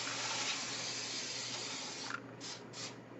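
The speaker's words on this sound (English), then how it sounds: "I'm gonna spray this with non-stick cooking spray." Non-stick cooking spray hisses from a can onto aluminum foil in a home kitchen while fudge is prepared, a steady close spray for about two seconds, then a few short bursts.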